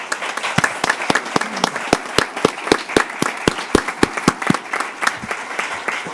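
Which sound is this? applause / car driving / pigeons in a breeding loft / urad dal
applause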